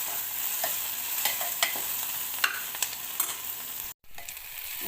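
Onions sizzle and fry steadily in a pan for mutton liver curry, with occasional spoon stirs and scrapes over the constant crackle, heard close with no voices.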